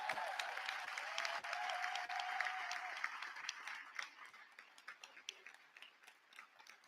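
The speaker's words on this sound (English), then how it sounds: "So let's please get a double round of applause" Audience applause for a panelist at an environmental justice panel, a dense steady round of clapping that gradually thins into scattered individual claps toward the end.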